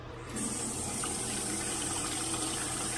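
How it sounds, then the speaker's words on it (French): A reopened household tap gushes steadily into a sink, a close, continuous rush of running water that starts abruptly and holds without talk. "Ben, rouvre la champlure."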